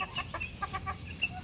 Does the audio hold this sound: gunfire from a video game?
no